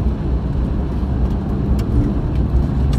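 A Porsche 911 driving on an icy, snowy road, its engine and tyre rumble loud and steady from inside the car.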